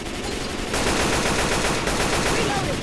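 Rapid automatic AK-47 fire in Left 4 Dead 2, a steady stream of rattling shots that swells louder partway through and keeps going to the end.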